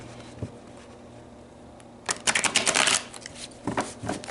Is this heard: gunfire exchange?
no